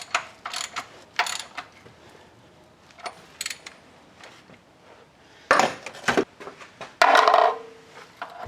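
Nuts being tightened onto the timing belt cover of a 1987 Toyota Camry engine, heard as a series of metallic ratchet clicks and tool clatter in short bursts, close and clear with no talking.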